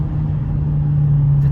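A 421-horsepower Mercedes-AMG CLA45S accelerates, heard from inside as a steady, strong, low engine drone that holds even for a brief moment.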